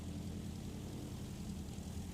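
A propeller airplane with leading edge slats and a big climb prop flies at a STOL competition in Central Florida, a constant droning engine and prop hum that is fairly faint and steady, with no voices.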